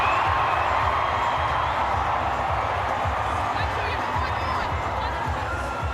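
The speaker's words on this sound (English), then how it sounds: "Great noise from the crowd." Stadium crowd at a women's rugby league match between Australia and Samoa, a steady roar of noise and cheering running throughout, heard under a commentator's voice.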